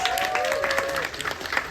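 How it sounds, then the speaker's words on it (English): An audience at an up-close animal encounter show at Gatorland applauds a volunteer, a short burst of many hands clapping together with a brief whistle-like tone and some crowd noise mixed in. "Everyone give Fernanda another round of applause!"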